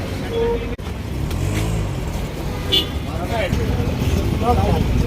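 A small auto rickshaw engine idles and revs nearby, a steady motor drone running beneath people talking, with a brief horn-like toot.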